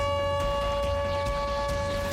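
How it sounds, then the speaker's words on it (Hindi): An air raid siren wails across the city of Kyiv during a missile attack. It sounds as one loud, continuous tone that holds steady for the whole stretch. "पूरे शहर में सायरन के शोर से लोग सहमे हुए हैं।"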